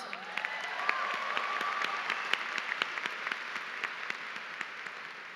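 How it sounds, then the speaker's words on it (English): Applause from the audience at a high school class of 2023 graduation ceremony fills the hall as a steady wash of many hands clapping, dense and sustained, a bit distant and even throughout. "Let's go ahead and give them another round of applause."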